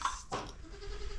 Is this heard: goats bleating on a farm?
yes